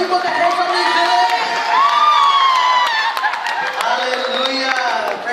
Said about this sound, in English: Let's give a clap offering for the people that came from New Zealand.